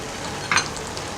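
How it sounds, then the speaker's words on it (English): Kibe, Ethiopian spiced butter, hitting doro wot sauce in a pot, a soft continuous sizzle with a brief louder spatter midway through this short moment, and no talking. "And now I am adding Kibe, or Ethiopian butter."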